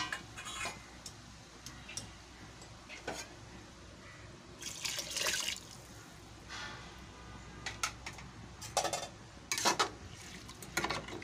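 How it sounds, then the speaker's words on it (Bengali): Chicken stock poured into a pot of chicken yakhni pulao cooking over a gas flame, heard as a run of splashing, trickling pours and drips in irregular bursts, fairly close and alone. "এবারে আমি যে চিকেন স্টকটা রেখেছিলাম ওটা আমি দিয়ে দিচ্ছি।"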